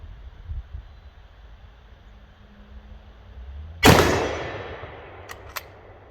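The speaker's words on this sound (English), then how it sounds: "Eyes and ears, essential for testing out a new gun, especially one that you just took apart completely." A restored Carcano rifle fires a single loud, sharp shot outdoors at a target after a long quiet stretch, with a ringing decay and a couple of faint metallic clicks from the action after it.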